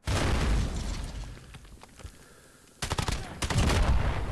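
In Modern Warfare combat, a rocket launcher shot whooshes close past the player amid loud bursts of gunfire and explosions, the noise dipping briefly before a sharp, intense burst of fire returns.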